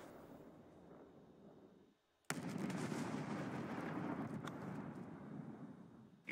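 Fireworks burst outdoors on New Year's, a sudden loud bang after a brief lull, then a sustained crackling, rumbling barrage that continues at close range with occasional sharper pops.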